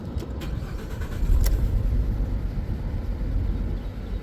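A Ford Transit van engine running with a misfire, a steady close low rumble with a few brief uneven knocks near the start and one sharper stumble around the middle, no talking.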